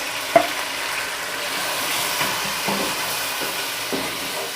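Tomato paste goes into a pan of browned onions and fried ginger for aloo palak, giving a steady, moderate sizzle with a few soft stirring knocks.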